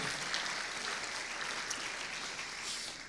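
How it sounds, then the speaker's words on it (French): An audience claps steadily for several seconds, a dense, even patter of many hands with no voices over it. "Vous pouvez l'applaudir"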